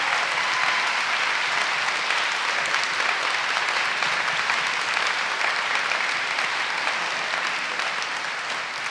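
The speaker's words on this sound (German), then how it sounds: "Dein Applaus!" Loud, dense applause from a science slam audience, sustained and even for about nine seconds with no speech over it.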